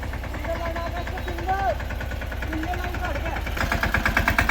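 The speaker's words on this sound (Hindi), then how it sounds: "चढ़ चुका है ट्रैक्टर।" A tractor that has been hauling sugarcane from a field climbs onto the road, its engine chugging in a steady rapid rhythm with faint tonal sounds over it, growing slightly louder near the end.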